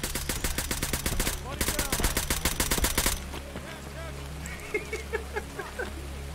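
Automatic gunfire rattles in Escape from Tarkov, rapid close bursts of shots for about three seconds that then stop. Afterwards a low hum hangs in the background while players talk.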